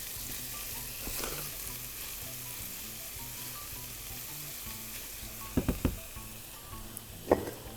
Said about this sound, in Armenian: Ավելացնում եմ սխտորը, մի քանի թոն, մի քիչ ասած լավ սոթե եմ անում